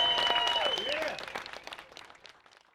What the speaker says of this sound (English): How about a big round of applause for all our lovely contestants?